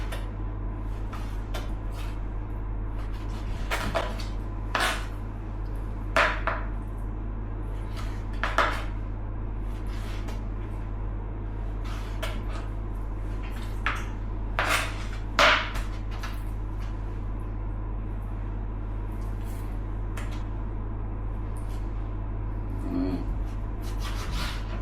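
A knife slices a large steak into strips on a board, giving scattered, irregular scraping and tapping strokes over a steady low kitchen hum, close and moderately loud.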